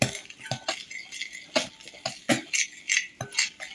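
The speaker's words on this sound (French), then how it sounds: "Vas-y, mélange tout doucement." Metal spoon stirring melted white chocolate in a bowl fresh from the microwave, a series of close, bright clinks and scrapes against the bowl wall in an irregular rhythm, with no talking.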